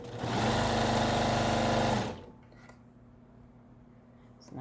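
A sewing machine stitching a double pocket bag runs in a fast, loud, even whir for about two seconds, then stops, leaving quiet room tone with a small click.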